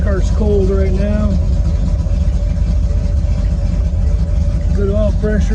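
A 1970 Camaro engine idles with the air conditioning switched on, a steady low rumble with a constant hum close by, while someone talks briefly over it at the start and again near the end.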